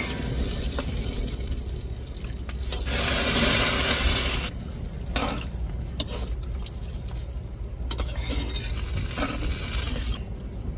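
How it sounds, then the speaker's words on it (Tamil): Ground masala, hand-ground on a stone, is stirred into a boiling pot of drumstick curry, a steady bubbling and scraping throughout with a louder burst of sizzle near the middle and occasional clinks. "இப்போ நம்ம அம்மியில் அரைச்ச மசாலாவை சேர்த்துக்கிடுவோம்"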